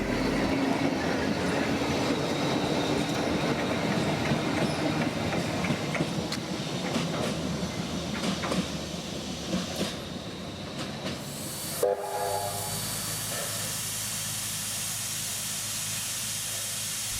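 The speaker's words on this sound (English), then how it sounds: "1979 was the last tram to be running around on the Sydney metropolitan area" A tram rumbles and clatters along the rails with steady rolling noise, then a hiss of air and a short tonal horn-like sound near the end.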